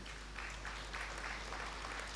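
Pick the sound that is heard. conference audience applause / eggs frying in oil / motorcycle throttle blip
conference audience applause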